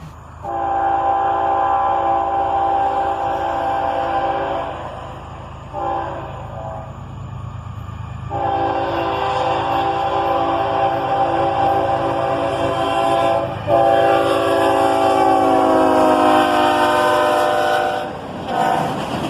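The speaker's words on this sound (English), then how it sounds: "An ES44ACH leads an auto-rack train northbound" A loud freight train led by an ES44ACH diesel locomotive rolls past close by, hauling auto-rack cars northbound, its diesel engine droning and wheels rumbling, with a long horn blast sounding over it.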